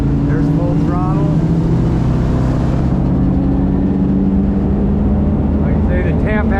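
A Tige ski boat's engine drones steadily at full throttle on the water, a loud continuous low roar with faint wind and water wash throughout.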